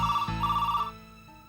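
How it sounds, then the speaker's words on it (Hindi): A telephone rings loudly with a steady electronic warble in two bursts, then the tone stops and a quiet room remains. "आपका फोन बज रहा है"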